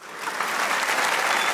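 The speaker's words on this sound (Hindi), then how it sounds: "वो तालियां बजाएं" A studio crowd at a Pakistani comedy talk show's Eid special breaks into a short, dense burst of clapping that swells quickly and stays loud and even.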